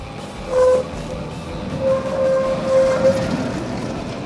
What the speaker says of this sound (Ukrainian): іде трамвай